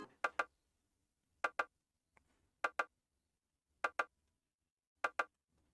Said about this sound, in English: It's a bongo drum. This is how it sound like.